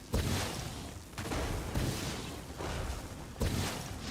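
Explosions go off around a character in The Elder Scrolls Online, a series of about four loud, close booming bursts with rumbling in between and no talk.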